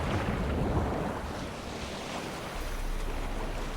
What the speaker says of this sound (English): Looks like there's a little storm that's kind of brewing up the ocean a little.